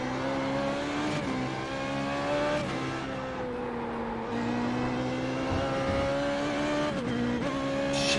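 Formula 3.5 open-wheel race car in the iRacing sim at Spa-Francorchamps, its engine droning loud and steady with rising revs broken by quick upshifts around two, three and seven seconds.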